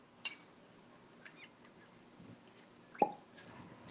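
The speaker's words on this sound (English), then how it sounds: "Just love those really good cork pops." A cork pops out of a bottle of 93-proof liquor, giving one sharp, close pop near the start and a second crisp snap a few seconds later in an otherwise quiet room.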